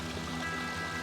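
Water pours steadily over a backyard waterfall feature in a tropical-style garden, a continuous close rushing and splashing flow with no voices.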